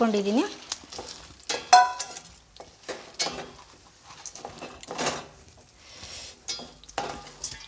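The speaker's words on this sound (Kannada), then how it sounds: "ಈಗ ಇದನ್ನ ಚೆನ್ನಾಗಿ ಕೈಯಾಡಿಸ್ಬೇಕು" Groundnuts stirred in a pan of hot sugar syrup for groundnut chikki, giving a steady scraping and sizzling with some light clatter of the spoon against the pan, close and moderately loud.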